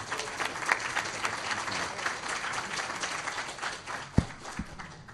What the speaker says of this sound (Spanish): Recibámosla con un fuerte aplauso a Mariela.